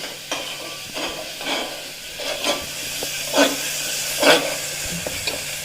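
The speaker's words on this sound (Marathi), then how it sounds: "आता तेल सुटूपर्यंत आलं लसूण पेस्ट मी तेलामध्ये परतून घेतली" Ginger-garlic paste sautéing in hot oil in a home kitchen, a steady soft sizzle broken by several stirring scrapes and crackling bursts, close and moderately loud with no voices.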